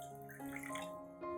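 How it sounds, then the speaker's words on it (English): Filtered water, about 500 milliliters, pours into a blender jar holding a banana plant-feed mixture, a steady close splashing stream that swells midway and again near the end, with no talk. "I will add about 500 milliliters of filtered water to make the mixture easier to blend"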